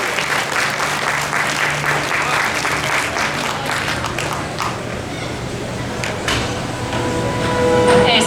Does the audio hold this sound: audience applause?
yes